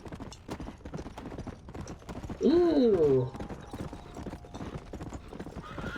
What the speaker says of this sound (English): now I've got the horse, so I guess I'm gonna run for it